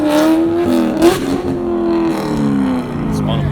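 Corvette at Carlisle 2020 rolling exhaust contest spinning its tires while accelerating, a loud close engine roar with a rising whine and tire squeal, crowd voices heard faintly underneath.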